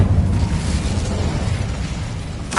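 The Incendio fire spell in the Hogwarts Legacy video game bursts out as a loud, roaring blast of flame that holds steady and then fades over a couple of seconds.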